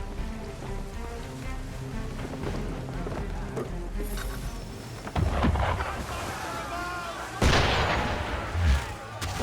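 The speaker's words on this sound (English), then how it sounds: "Why is he shooting at us?" Cannon fire from an enemy ship in Assassin's Creed III booms in heavy, thunderous blasts, two big reports standing out over a rumbling sea-and-rain backdrop, with voices talking beneath.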